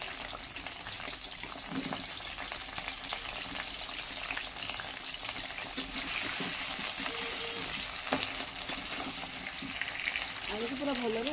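Potatoes frying in mustard oil in a kadai, a steady close sizzle and crackle that swells slightly toward the end.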